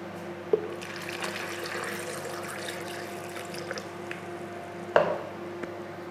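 Water poured into a blender of soaked cashews, chili, nutritional yeast flakes and salt for cashew nacho cheese: a steady, soft wash of liquid, with a sharp knock near the start and another near the end.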